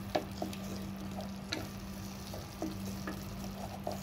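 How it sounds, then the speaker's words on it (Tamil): Ground masala sautés in oil for vegetable biryani, a soft, faint sizzle with scattered light stirring clicks over a steady low hum. "இதுவும் நல்லா வதங்கட்டும்."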